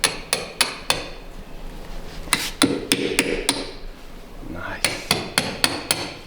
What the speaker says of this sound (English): You can give it a tap on the bolt heads.